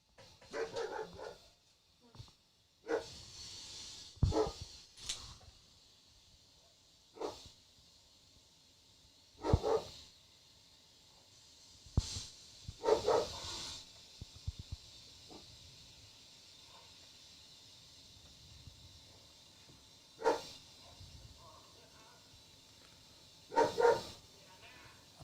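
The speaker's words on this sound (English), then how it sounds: "Apologies for the dog in the background" A dog barks in the background in scattered short bursts, fairly faint and distant, separated by longer quiet stretches with low hiss.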